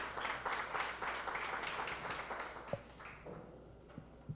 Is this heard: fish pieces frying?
no